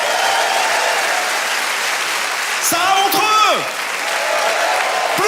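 Steady audience applause fills a comedy show, loud and continuous, with a voice briefly speaking over it midway before the clapping carries on.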